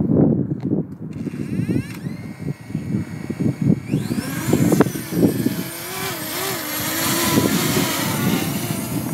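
After a few clicks and handling noises, a DJI Mini 2 SE drone's motors spin up into a rising whine, then settle into a steady, close buzzing hum.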